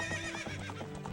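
A horse whinnies loudly in The Legend of Zelda: Ocarina of Time, a long quavering neigh with a shaky wavering pitch, close and continuous for over a second, with faint hoof clip-clops underneath.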